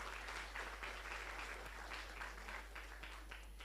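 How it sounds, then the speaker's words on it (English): An audience at a technopreneurship education event applauds a CEO talk, heard faintly and fairly steadily over a low constant hum. "please surround us with a big applause for the CEO talk today"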